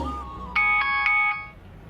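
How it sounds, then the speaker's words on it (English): A telephone rings during a school annual day stage play: an electronic ringtone of four quick tonal pulses, loud and close over faint room noise. "Phone rings."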